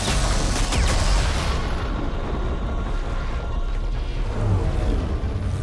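Rapid gunfire and bursts of shots in the video game Mass Effect 3, a loud, continuous barrage of weapon fire with booming low rumble throughout.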